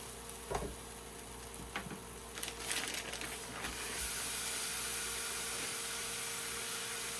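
About two pounds of 80-20 hamburger brown in a pan. A few light clicks come first, then a steady, close, broadband sizzle that holds on its own.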